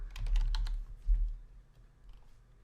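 Computer keyboard typing a short word into an Adobe After Effects field: a quick burst of several close clicks followed by a single keystroke, with no talk.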